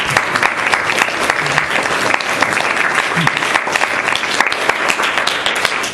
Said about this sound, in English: let's give these folks a real big round of applause